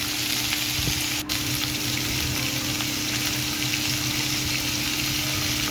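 Spices frying in hot oil as tempering for shukto with potato and drumstick, a steady close sizzle that holds evenly throughout with no one talking.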